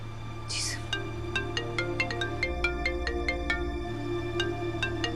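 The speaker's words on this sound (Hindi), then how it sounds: "सर का ही फोन आया" Phone ringtone for an incoming call plays as a repeating melodic tone pattern over a steady background music bed, fairly loud and continuous throughout, with no talking.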